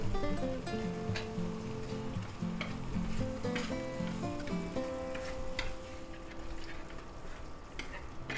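Three pats of butter melt in a pan while garlic butter pasta cooks, a quiet steady sizzle with light ticking crackles under soft background music tones.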